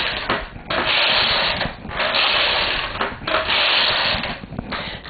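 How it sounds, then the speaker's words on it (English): A knitting machine carriage runs across the needle bed to knit a full row of stitches, a continuous loud mechanical whirring and ratcheting in several sweeps with brief pauses between passes, close and alone. "each time I go across, the machine is going to knit a whole row of stitches"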